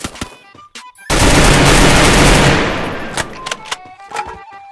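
A sustained burst of automatic gunfire rips through a shooter video game match, preceded and followed by scattered single shots and game effects, loud and close.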